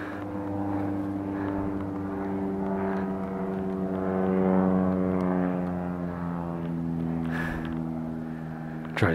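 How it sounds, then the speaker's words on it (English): A propeller airplane drones steadily overhead, its low engine hum holding a constant pitch and swelling slightly louder mid-way before fading. "Great, I hear a plane again."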